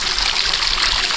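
Clean stream water flows steadily near Ammanagatta in Hosanagara, a continuous close hiss and trickle with no voices over it.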